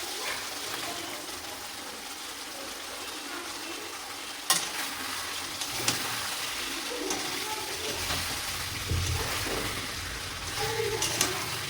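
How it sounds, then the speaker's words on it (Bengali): Fish pieces being stir-fried in spice masala over low heat, a dense ongoing sizzle with a sudden flare after the fish settles and scattered spatula clicks, close and without talk. "লো হিটে মাছগুলোকে আমি একটু কষে নেব মশলার সঙ্গে"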